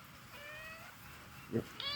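A pet cat gives a short meow near the end, heard faintly over a steady background hum.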